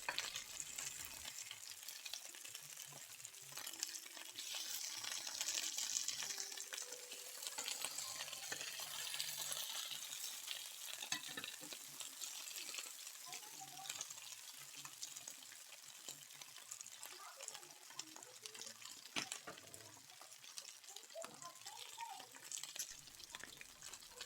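Bok choy sears in a hot pan with thinly sliced garlic, a soft steady sizzle with light stirring and flipping clatter, fairly quiet and close.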